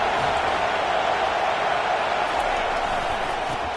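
A stadium crowd roaring at a college football game between FSU and Virginia Tech, a dense, steady wash of distant cheering that holds without a break, with an announcer talking over it.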